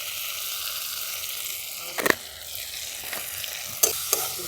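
Tomato and onion fry with salt in a pan, a constant close sizzle with a few brief scrapes and clacks of a spatula stirring, no talk.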